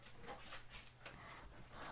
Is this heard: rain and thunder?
no